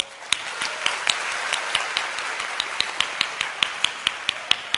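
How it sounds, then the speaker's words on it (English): Applause for students at a school English-speaking event: a few clear, sharp claps in a steady rhythm stand out close over a softer crowd wash, continuing evenly for several seconds. "I would like to congratulate you all with another big round of applause."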